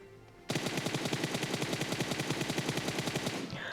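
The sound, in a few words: gunfire in the video game PUBG Mobile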